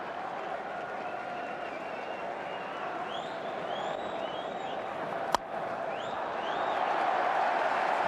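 A cricket stadium crowd during a disturbance at an Australia versus New Zealand tri-series match in 2001-02, a sustained wash of distant clapping and crowd noise with whistles, a sharp crack midway, swelling slightly louder toward the end.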